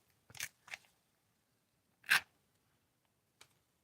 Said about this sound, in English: Listen to the sound of the scissors